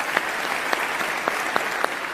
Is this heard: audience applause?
yes